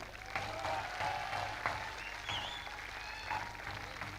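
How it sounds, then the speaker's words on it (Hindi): A large event audience claps loudly together, a sustained crackle of many hands with a few sharper claps standing out and faint voices beneath. "आप सब लोग एक बार ज़रा ज़ोरदार अपने लिए गूंज वाली ताली"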